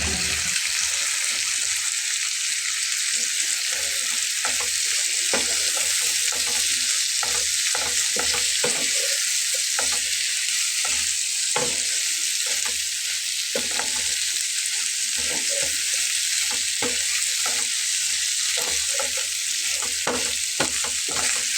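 Dried loitta fish (shutki) fries with spices in a pan, making a continuous loud sizzle with frequent scraping stir strokes throughout.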